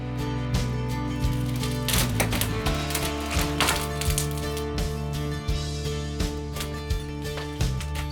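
Old floorboards are torn out of a farm room in a run of sharp cracks, thunks and splintering wood knocks, close and irregular, with no talk over them.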